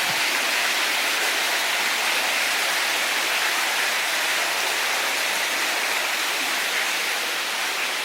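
A decorative fountain in a grotto in a sakura park splashes with a steady, dense rush of falling water that fills the whole clip at close range, with no voices.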